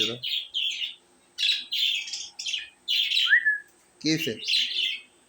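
Budgerigars in a home cage, a breeding pair, chirp and warble in bursts with short pauses between, close and fairly loud, with one low squawk near the end.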